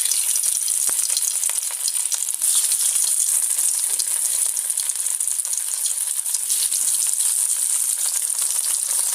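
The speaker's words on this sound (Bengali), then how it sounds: "এখন আমি এটাকে ফ্রাই করব।" Boiled potatoes coated in turmeric, chili and salt fry in a pan, making a loud, dense, unbroken crackling sizzle that runs steadily from start to finish.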